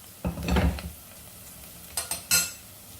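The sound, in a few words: onion frying in a pan until golden brown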